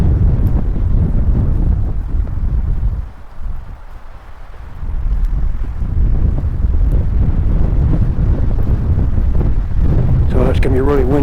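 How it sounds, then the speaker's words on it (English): Strong wind buffets the microphone on a hilltop of an old volcano near Flagstaff, Arizona: a heavy, continuous low roar that eases briefly for a moment before gusting back just as loud. "So it's going to be really windy here."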